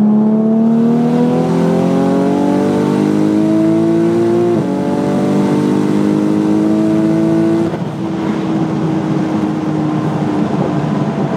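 A Porsche 991.2 Turbo S engine, tuned to the limit of its block, accelerates hard through several gears, its loud steady drone rising in pitch with brief dips at each shift, close and alone.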